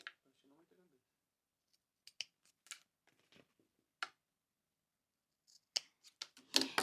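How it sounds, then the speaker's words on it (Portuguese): Scissors make a few sharp snips into the corners of a sewn fabric Christmas bread basket, cutting close to the seam; the crisp clicks are spaced irregularly with quiet gaps, near and moderately loud, with brief soft talk early on. "eu vou vir nos cantinhos e vou dar um pique bem próximo, sem cortar a minha costura"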